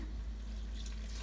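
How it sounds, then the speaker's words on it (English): Warm water with bloomed yeast, a little under a cup, poured into a mixing bowl for pizza dough gives a brief, steady watery splash and trickle, close and fairly quiet, with no talking. "Now we add the wet ingredients, which is my warm yeast, slightly less than 1 cup of water with the yeast already bloomed."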